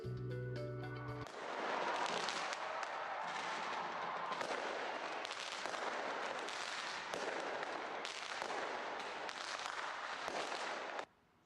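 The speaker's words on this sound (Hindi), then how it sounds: "ऑस्ट्रेलिया के सिडनी शहर में नए साल का जश्न के दौरान शानदार आतिशबाजी की गई" New Year fireworks over Sydney, Australia: a dense, continuous barrage of crackling bursts and booming pops that stays loud and unbroken for about ten seconds before cutting off abruptly.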